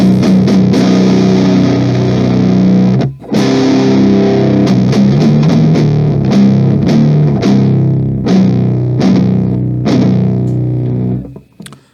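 An electric guitar plays through a Boss Metal Zone distortion pedal modified with two resistors on its diodes, loud, heavily saturated chords and riffs with one brief break, sharp palm-muted stabs and a final fade.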